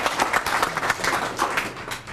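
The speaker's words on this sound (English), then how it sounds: "Everybody clap for Dad." An audience at a campaign kickoff speech claps steadily for a couple of seconds, a dense patter of many hands at moderate distance with no pause.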